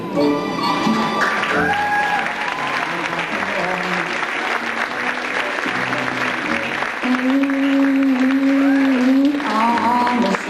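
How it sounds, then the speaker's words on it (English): Audience applause fills a fashion show, sustained and fairly loud, mixed with background music and an announcer's voice over the clapping. "Give them a big round of applause, ladies and gentlemen."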